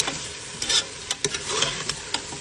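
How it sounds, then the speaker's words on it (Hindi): Beef fries in a karahi for Shinwari karahi, a bright sizzling hiss broken by sharp clinks and scrapes of stirring at irregular moments, close and without talk. "गोश्त भुन रहा है"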